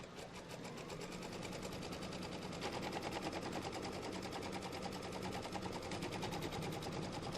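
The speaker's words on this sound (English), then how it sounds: "let's go ahead and re-stitch this section" An embroidery machine runs steadily, re-stitching a quilt section for a Kimberbell Pumpkins & Potions quilt, its needle hammering in a fast, even rapid-fire rhythm that stays loud and close throughout.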